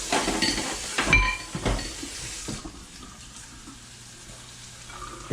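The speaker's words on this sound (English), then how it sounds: "I'm gonna get a fork after I just rinse my fingers off here." Running tap water splashing briefly over hands with a few sharp bursts, then fading to quiet room hiss.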